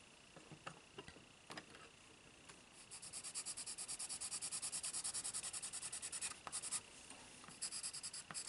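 A pencil colours on paper with light strokes, a soft scratchy rubbing that starts in scattered touches and settles into a fast, even back-and-forth shading rhythm, close and quiet.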